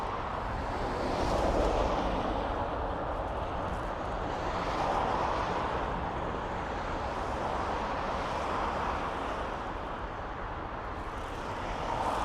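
A Swiss Air airliner landing at Dublin Airport gives a steady, broad roaring jet rumble heard from a distance, swelling slightly and then easing.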